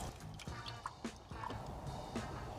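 Filtered water drips from a Lifesaver Jerrycan filter being pumped inside a van under conversion, with soft irregular drips and trickles at low volume against a faint background.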